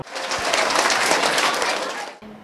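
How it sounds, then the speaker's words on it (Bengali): Loud, dense clapping from a school audience at a quiz programme, sustained for about two seconds before cutting off abruptly. "জোরে সবাই একটি হাততালি দেয় আবারও"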